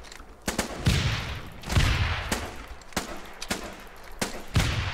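Gunfire in the Foxhole video game comes as repeated sharp rifle shots and bursts over a rumbling battlefield bed, fairly dense and steady.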